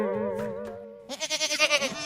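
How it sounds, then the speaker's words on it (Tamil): A lamb bleats in a wavering, vibrato cry that shifts into a louder, pulsing run of bleats, close and alone with no talk. "ஆட்டுக்குட்டி வந்துருச்சா?"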